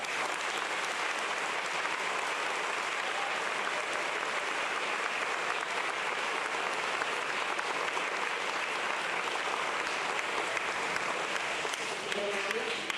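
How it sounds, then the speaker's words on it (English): Steady, dense applause from an audience at a school awards program, honoring sixth grade students, continuing evenly throughout without pause. "Let's give these students a round of applause."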